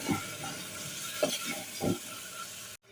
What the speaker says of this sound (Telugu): ఇవంతా బాగా వేగిన తర్వాత గరం మసాలా మరికొద్దిసేపు వేయించుకొని